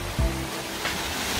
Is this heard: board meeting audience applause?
no